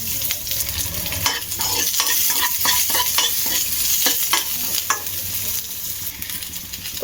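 Onions frying in oil with cumin seeds for jeera rice, a steady close sizzle with repeated scraping stirs of a spatula through the pan, no voices.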